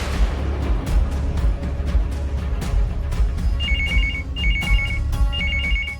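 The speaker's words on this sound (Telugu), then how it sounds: "ఫోన్ చూడెవరో." A telephone rings in an indoor police station setting, repeated trilling ring bursts sounding clearly over a busy, noisy background with scattered knocks and bustle.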